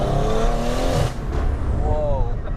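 A built big-turbo BMW M140i making 920 bhp revs hard, engine pitch climbing and dropping in loud sweeps, with a brief dip before another rising rev near the end.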